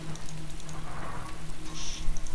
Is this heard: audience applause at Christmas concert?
no